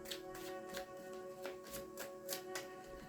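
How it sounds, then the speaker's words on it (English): Tarot cards are shuffled by hand in quiet, soft riffling bursts repeating every half second or so, close and faint, against a low steady background hum. "One more shuffle for Gemini."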